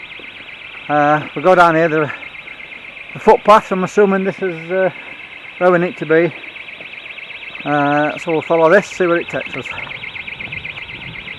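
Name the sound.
siren going off during a walk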